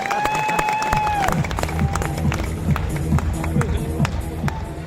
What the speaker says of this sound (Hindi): इनके लिए भी जोरदार तालियां ना